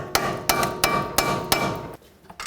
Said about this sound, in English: Watch out for the ABS wire when you hammer this bottom one.